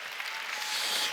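A church congregation claps together during a Wednesday worship service, a dense, steady burst of applause filling the room and holding through the moment without voices.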